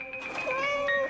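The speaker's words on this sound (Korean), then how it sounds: "귀여운 고양이네." A cat gives one drawn-out, wavering meow, close and clear, lasting about a second, with faint background sound around it.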